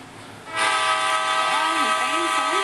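A train in a railway video game starts up about half a second in, a loud sustained horn blaring over the engine noise until the end, with a voice faintly beneath it.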